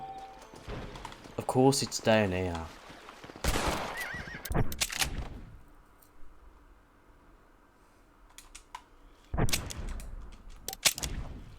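A horse in the Red Dead Redemption video game neighs in a rising whinny, followed by bursts of hoofbeats and clatter, with someone talking over parts of it.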